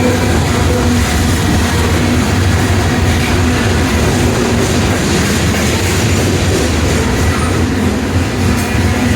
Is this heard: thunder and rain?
no